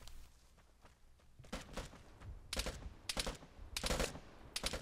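Bursts of video-game gunfire in Vigor: several rapid volleys crack out in quick succession, loud and close, with short gaps between clusters of shots.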